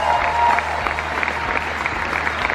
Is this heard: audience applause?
yes